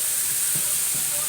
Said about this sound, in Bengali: এই দেখো ডালটা ছুঁকে নিচ্ছি